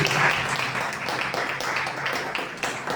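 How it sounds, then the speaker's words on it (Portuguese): A church congregation breaks into a dense, continuous wash of applause and clapping for Jesus during a worship service, holding at a steady level throughout. "Palmas para Jesus."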